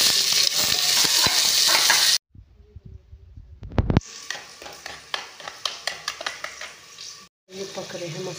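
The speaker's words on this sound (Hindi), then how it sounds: "ये पक रहे हैं मसाले" Cumin and spices fry in hot ghee for dal, loud crackling that cuts out briefly, then returns as a run of rhythmic spattering bursts and stirring strokes close by.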